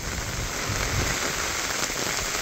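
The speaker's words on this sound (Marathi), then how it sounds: "सकाळपासून पाऊस आहे, कंटिन्युअसली पाऊस आहे" Heavy, continuous rain falling in the Devrukh area of Konkan, a close, dense and steady patter of drops on surfaces with no pauses.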